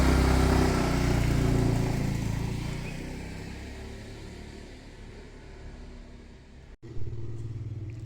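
Motorcycle with a knocking engine that won't restart, idling loudly up close with a rough rumbling throb that fades gradually, then cuts out briefly and catches again near the end.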